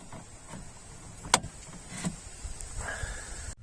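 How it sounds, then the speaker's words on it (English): The repaired electric window motor in a Skoda Roomster/Fabia runs with a soft continuous whirr after a sharp switch click, heard close inside the car with no talking. "Click on the window switch. The window is working like magic again."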